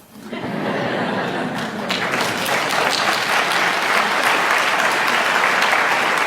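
An audience at a Christian apologetics talk with Nabeel Qureshi breaks into loud, sustained applause that swells after the first second and stays dense and even, with faint chuckles mixed in.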